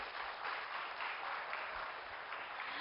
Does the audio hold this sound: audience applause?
yes